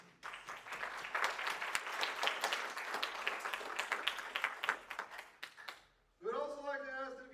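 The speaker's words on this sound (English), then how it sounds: "Let's all give them a round of applause, please." An audience at a community theater claps for the show's sponsors, fairly close, busy applause with distinct individual claps for about six seconds before it stops abruptly and a voice starts speaking.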